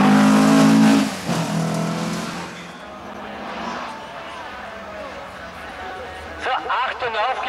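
A Porsche 996 race car on a track, a loud engine burst with possible tire squeal near the start that fades into a distant rumble, while a commentator talks over most of it.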